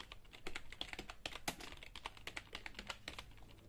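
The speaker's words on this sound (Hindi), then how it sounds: "फिर इसको भी मीडियम स्पीड में टाइप करना" Steady medium-speed typing on a computer keyboard during Hindi typing practice, a quick run of close, crisp key clicks with no talking, soft overall but distinct.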